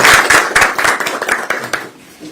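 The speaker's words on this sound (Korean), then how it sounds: "큰 박수를 한번 부탁드리겠습니다" An audience at a political campaign event in Yongsan, Seoul, claps together in a short burst of applause, loud at first and then thinning out and fading toward the end.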